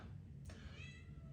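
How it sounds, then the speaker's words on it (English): A house cat meows faintly in the background, a single brief call half buried under a steady low hum. "You can hear my cat meowing in the background."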